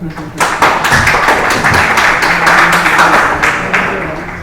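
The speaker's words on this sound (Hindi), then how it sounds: "उस्मान भाई के लिए तालियां हो जाए यार।" A class group gives Usman bhai a short round of applause, a burst of close, loud clapping that swells quickly, holds steady and then begins to taper off.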